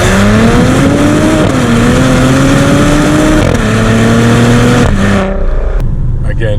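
A 2021 Maserati Ghibli S Gransport V6 revving hard, a loud rising engine howl that climbs in steps through gear changes and then cuts off abruptly near the end.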